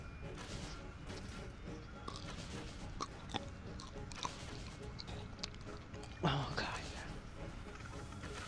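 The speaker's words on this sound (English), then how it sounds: "Can you hear me eating your Skittles in the mic?" Close-miked chewing and crunching of Skittles candy, with intermittent crunches and mouth noises over a busy game-audio background, including one louder crunch near the end.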